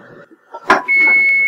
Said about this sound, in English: So there we hear our timer for the bacon.